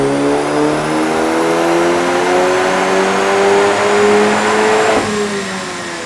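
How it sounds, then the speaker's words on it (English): A Volkswagen MK8 GTI engine on a dyno with an E85 flex-fuel tune revs loud and steady, its pitch climbing smoothly for several seconds before abruptly dropping off near the end. "Now that our flex tune is on the car, we're gonna dyno it again."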